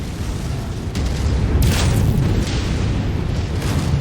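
In MechWarrior 5: Mercenaries, a facility explodes with a loud, deep boom, then rumbles on in a sustained roar with scattered bursts and crackles, heard alone without speech.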